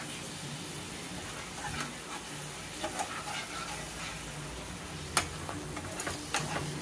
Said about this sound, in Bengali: এটাকে নাড়ছি।